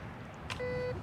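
A metal detector sounds a single short electronic beep over a target in damp beach sand, faint and brief amid light outdoor background.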